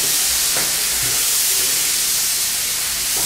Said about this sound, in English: That sizzling.